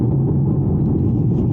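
An Audi TT Quattro engine drones as the car drives along a road at the speed limit, a steady, close, low rumble heard from inside the cabin, with no voices over it.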